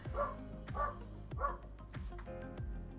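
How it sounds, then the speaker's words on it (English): A dog barks repeatedly in the background, five or six sharp barks in a steady rhythm over about three seconds, moderately loud against a quiet room. "with a bit of dog barking in the background, why not?"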